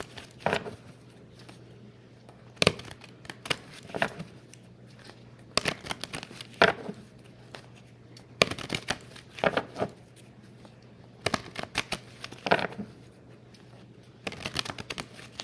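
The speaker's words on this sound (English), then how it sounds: "so I'm going to go shuffle these again" Tarot cards shuffled by hand in repeated bursts of crisp riffling and flapping, close and fairly quiet, with pauses between each round and no talking.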